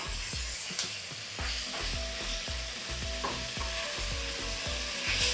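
Sautéing in a pan for Andhra chilli chicken, with a constant sizzle and a rhythmic run of spoon strokes scraping and knocking the pan, close and loud, no speech.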